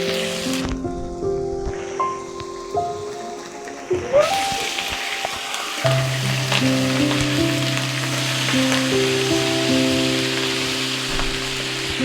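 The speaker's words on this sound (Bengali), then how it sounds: "এটাকে আমি ভালোভাবে নেড়ে চেড়ে কষিয়ে নিব।" Egg korma spices with garlic paste, cumin paste, salt and garam masala are stirred and fried in a pan, producing a steady sizzling hiss beneath prominent background music.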